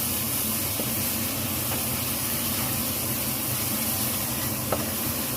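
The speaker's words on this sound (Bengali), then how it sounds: "মশলাটাকে ভালো করে কষিয়ে নিতে হবে কষাতে হবে" Spice paste fries in a pan with a loud, unbroken hiss that stays level from start to finish, with only a couple of faint ticks on top.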